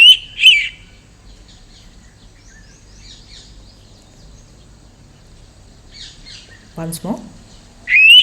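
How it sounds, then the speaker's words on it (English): An Indian pitta gives short, clear whistled calls, one near the start and another at the end, loud and close against a quiet background, with a brief spoken remark just before the final call. "so that's the Indian pitta, not a songbird"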